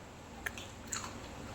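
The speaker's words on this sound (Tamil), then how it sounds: "இப்போது பச்சைக்காவை கொஞ்சம் கடிக்க போகிறோம் காரமாக" A spicy green chili gets bitten during a village meal of old rice porridge, giving two quick, close, soft crunchy bites in a quiet setting.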